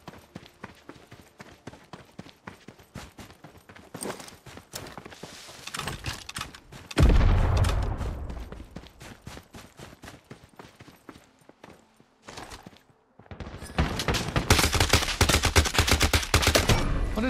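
Bursts of video-game gunfire in Lost Light, with scattered shots early on, a loud heavy barrage in the middle, then near, rapid firing that returns after a short lull.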